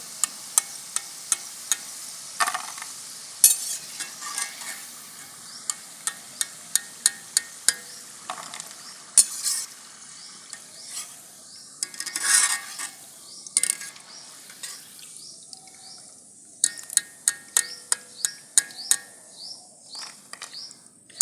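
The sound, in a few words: jaggery pakoras frying and being stirred in a kadai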